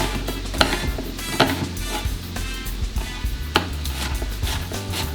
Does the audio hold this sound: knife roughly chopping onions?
yes